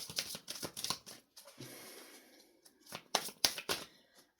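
Tarot cards shuffled by hand in repeated quick riffling bursts, crisp papery flutters close up with a short pause midway, no talking.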